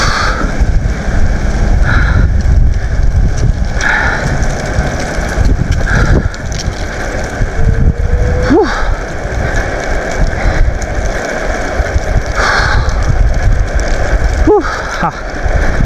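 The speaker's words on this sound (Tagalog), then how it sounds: "Mahangin pa mga idol." Gusty wind blowing outdoors on a Japanese street, a steady broadband rush with occasional faint voices and brief tonal squeaks under it throughout.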